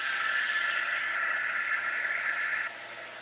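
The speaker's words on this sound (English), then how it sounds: "find my heat tool" Heat tool blowing over a piece of mixed media artwork to dry it, a steady close hiss and whir with a faint tone inside it that holds evenly, then drops slightly in level near the end.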